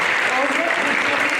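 Audience applause at a Georgian folk choreography festival, a steady dense wash of clapping with a voice faintly mixed in, continuous through the short moment.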